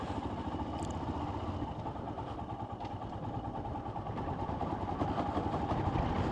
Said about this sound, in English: I'm out on my new Royal Enfield Himalayan.